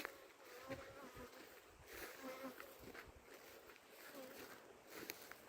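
Honeybees humming around about eighteen hives outdoors on a spring day, a faint continuous buzz with passing individual bees, a voice speaking softly in the background.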